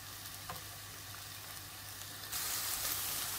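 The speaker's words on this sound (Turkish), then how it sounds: "Şöyle tuzla yaklaşık 5 dakika kadar kızarsın yeterli." Green beans and peppers frying with salt in a pan give a steady, close sizzle with faint crackling, growing a little louder and brighter toward the end.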